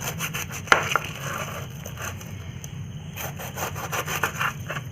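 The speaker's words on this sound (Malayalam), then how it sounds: "അരിഞ്ഞ് ആദ്യം ഇതിൻ്റെ മൂടും തലയും നമുക്കൊന്ന് കളയാം" A knife saws back and forth through the top and bottom of a ripe pineapple, a rapid, rhythmic rasping close to the listener that continues steadily with a few sharper cuts, with no talking.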